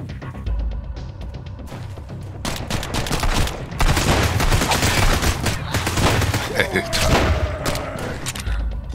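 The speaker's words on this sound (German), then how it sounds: "Dann nehmen wir die, damit können wir schneller schießen." In the survival game Sunkenland, a fast-firing weapon lets off dense, loud bursts of rapid gunfire, with booming impacts throughout and continuous shooting for several seconds.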